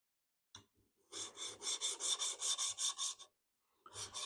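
Sandpaper rubbing across wood, a near, steady run of rhythmic back-and-forth rasping strokes after a couple of brief scrapes, then stopping and starting again.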